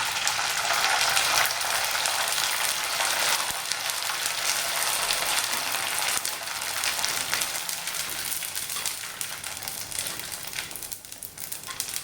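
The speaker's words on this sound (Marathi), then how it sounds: "थोडेसे तेल छान गरम झालेलं आहे तर आता बघा मी थोडंसं तुम्हाला तळून दाखवतो" Sabudana rings deep-fry in hot oil with a dense, continuous bubbling crackle that fills the whole stretch close up, easing off slightly toward the end, no talking.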